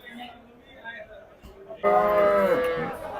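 At the Sunday livestock market in Dabwali, Jersey cattle stand in quiet murmuring background noise until a loud, drawn-out moo rings out close by and holds for over a second.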